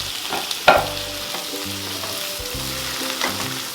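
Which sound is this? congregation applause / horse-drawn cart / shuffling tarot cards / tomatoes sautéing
tomatoes sautéing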